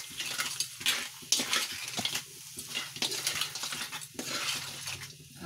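Butter being stirred into cheesy crab in garlic sauce, a utensil scraping and clinking against the pan in steady bursts over a soft sizzle, close and continuous with no talk.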